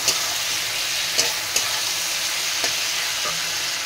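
Vegetables with salt and turmeric fried in a pan, a steady close sizzle with occasional sharp spoon clinks against the pan, alone without talk.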